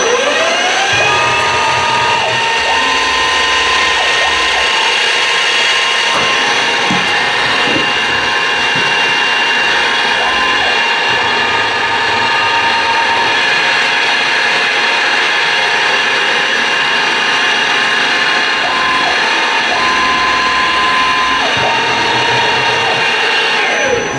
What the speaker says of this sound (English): now we just need to drill two holes on both sides and countersink them